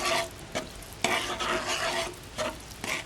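Biko, a Filipino rice cake mixture, stirred in a pot with steady scraping strokes and a soft bubbling sizzle underneath, loud and close, with rhythmic sweeps roughly every half second and no talking.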